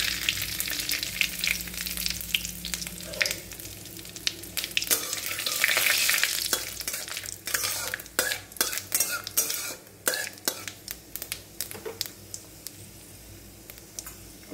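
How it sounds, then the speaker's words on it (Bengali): Whole garam masala, a bay leaf and cumin sizzle in hot oil in a pan, a soft continuous frying hiss broken by frequent sharp scrapes and clinks of a stirring spoon, close and moderately quiet. "এখানে গোটা গরম মশলা ফোড়ন দিচ্ছি, একটা তেজপাতা, একটু গোটা জিরে"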